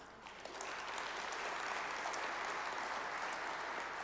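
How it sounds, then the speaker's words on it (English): Sustained audience applause from a crowd at a port community breakfast event, a dense, steady wash of many hands clapping that swells in after a brief start and holds evenly throughout. "You should give yourselves a round of applause"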